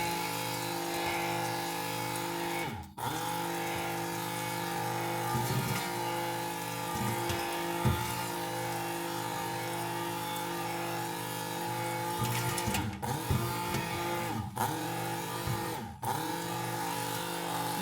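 A blender whirs steadily while mixing homemade soap batter with essential oil, a sustained motor hum broken by a few short pauses and restarts, close and alone without talk.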